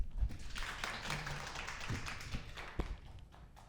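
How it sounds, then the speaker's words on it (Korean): Applause for a company CEO's forum presentation on the companion animal industry at a university forum, soft and distant clapping with scattered sharper claps from a modest audience. "큰 박수가 필요합니다."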